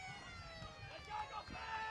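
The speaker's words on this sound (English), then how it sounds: "And the siren sounds" A long siren tone starting an Australian football grand final at Coorparoo sounds in the distance, faint and steady, while a commentator talks over crowd murmur.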